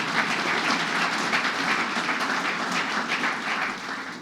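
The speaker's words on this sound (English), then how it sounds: "so let's give them a round of applause" Audience applause at a New York State grant award event, a dense, steady burst of clapping from a large crowd that tapers off slightly at the end.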